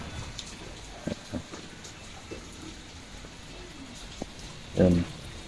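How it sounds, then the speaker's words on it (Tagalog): Rain falls on plants in a steady soft hiss with scattered heavier drops and a brief louder patter near the end. Voices may be present faintly. "Kasi nga naulan."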